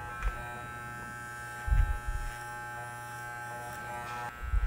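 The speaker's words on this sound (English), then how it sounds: "I will use clipper over comb technique, a little bit more advanced technique" An electric hair clipper buzzes steadily and close throughout a haircut using clipper-over-comb, with brief soft bumps and handling noise breaking the constant hum.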